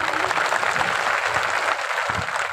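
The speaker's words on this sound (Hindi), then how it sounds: "अरे बजा दो जो उनकी ताली" An audience claps at a Bhagavat katha in Jabalpur, Madhya Pradesh: dense, steady applause from many hands, close and sustained for the whole stretch with no break.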